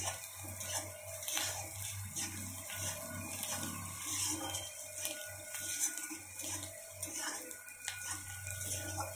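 Chopped ginger goes into a pan of fried garlic and is stirred, giving scraping and clinking of a utensil against metal with a soft sizzle underneath, close and fairly quiet.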